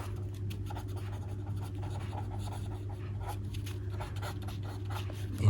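A pen scratches steadily across paper while solving a class 8 maths equation by hand, a continuous close scribbling over a low steady hum.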